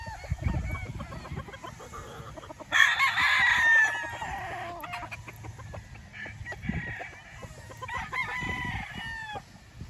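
Roosters and other chickens crow and cluck at a Batangas gamefarm, several birds calling near and far, with one loud crow standing out amid ongoing clucking.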